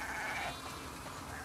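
Sheep bleat in The Last of Us Part 2, a dense, continuous wavering bleat held loud and close across the whole moment with no voices over it.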